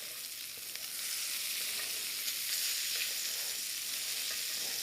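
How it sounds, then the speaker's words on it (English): Pork loin sizzles steadily in a hot pan while being basted with herbs and garlic, a continuous bright crackling hiss with faint spoon or liquid movements, close and alone without voices. "I'm going to keep basting my pork loin here."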